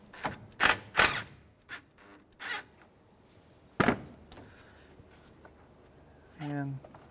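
Ratchet or wrench loosening the 10mm nut on a 2003-2011 Honda Element's battery negative terminal, with several sharp close clicks and rasps, a later quick zipping ratchet run, and a voice speaking between them.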